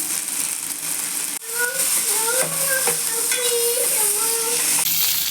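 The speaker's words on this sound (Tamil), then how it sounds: "5 கிராம்பு, அன்னாசி பூ 2, ஏலக்காய் 2 இதோட சேர்த்து நல்லா வதக்கிக்கலாம்." Poppy seeds, cloves, star anise and cardamom sizzle in hot oil for mutton kola urundai kulambu, a steady close frying crackle with a stirring spoon scraping and clinking against the pan throughout.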